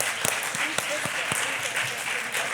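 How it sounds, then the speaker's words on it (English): An audience at a Unitarian Universalism summer forum claps in a short burst, the individual hand claps distinct and fairly near, with a voice talking over them throughout. "Let's give them a good big round of applause."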